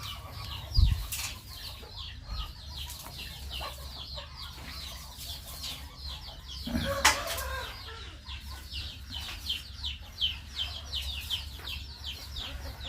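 Chickens clucking softly amid steady background noise, with a brief burst of wing flapping partway through.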